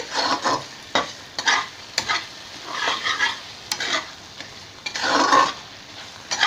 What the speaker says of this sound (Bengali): মশলাটা যখন একটু ভাজা ভাজা হয়ে আসবে